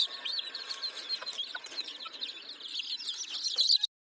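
Native village chicken chicks cheeping continuously in a dense, high-pitched chorus of many overlapping peeps, fairly close, cutting off abruptly near the end.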